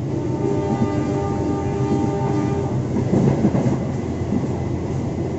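A local Bandung Raya train runs through Gede Bage station, a freight and logistics yard, with a steady broad rumble and wheel clatter. The noise swells slightly toward the end, loud and continuous with no voices.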